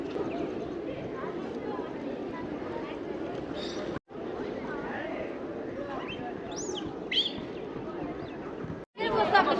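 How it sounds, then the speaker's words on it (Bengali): Many pigeons coo inside the Pashupatinath Temple grounds in Nepal, where visitors feed them. Soft repeated coos and flutters sound close by over a busy murmur of crowd chatter. "অনেক অনেক পায়রা।"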